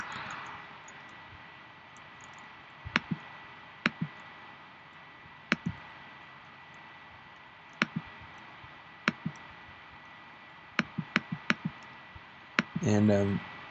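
Clicks of keys on a Mac keyboard as an admin password is typed, sparse separate taps with a quick burst of rapid keystrokes near the end over faint background noise.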